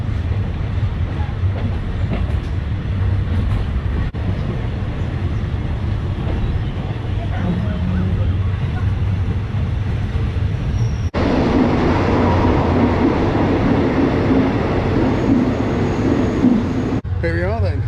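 A third class train runs along the Death Railway in Thailand, rumbling steadily with continuous clattering wheel and carriage noise that grows louder and rougher partway through.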